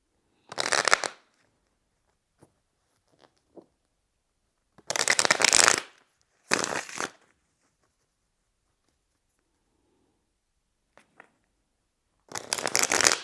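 A tarot deck is shuffled and split in four separate quick riffling bursts with quiet pauses between them. The sound is close and crisp, with faint taps in the gaps.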